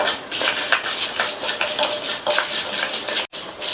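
Urad dal, coriander seeds and fenugreek dry-roast in a pan for a thuvaiyal, with a steady rhythmic scraping and rustling as a spatula stirs them, close and moderately loud.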